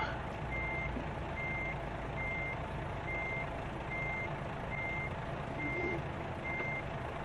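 In American Truck Simulator, a truck backing up sounds a steady reversing alarm, evenly spaced beeps over a constant loud engine rumble, with no one speaking.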